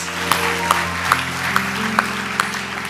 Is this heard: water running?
no